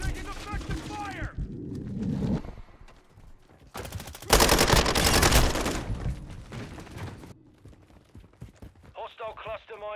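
Bursts of automatic gunfire in a team deathmatch first-person shooter, loud and sustained through the middle, with scattered shots before and after and voiced game callouts over it.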